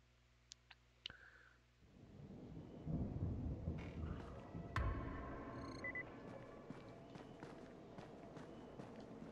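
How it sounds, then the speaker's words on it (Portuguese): Steady heavy rain with a low rumble of thunder building in, plus scattered clicks and light footstep-like taps over the downpour, in the video game Dying Light. "tá chovendo pra caralho agora"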